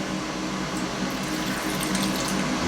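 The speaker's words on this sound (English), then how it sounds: "Then you just empty the water" Warm water poured out of a preheated Chemex coffee maker into a sink, a steady close splashing stream with a continuous liquid gurgle lasting the whole moment, with no talking over it.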